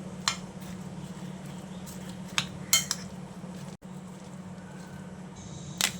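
A spoon stirs coriander and mint into a pressure cooker pot of vegetable biryani, with sparse sharp metallic clinks of spoon on pot over a low steady hum.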